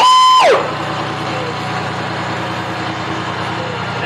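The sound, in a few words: tractor engine in a farmers day parade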